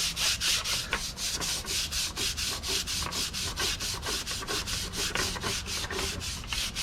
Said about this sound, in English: I'm just going to use some dishwashing liquid, a little plastic scrubber there.